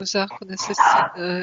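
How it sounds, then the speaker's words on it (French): A dog barks indoors, short yips partly masked by a person speaking French over the top, the barking close but brief within the talk. "C'est le chien."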